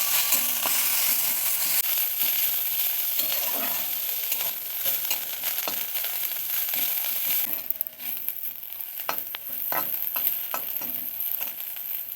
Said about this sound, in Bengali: কচি নিম পাতা যেগুলো ছাড়িয়ে রেখেছিল সেগুলো দিয়ে ভালো করে ভেজে নিচ্ছে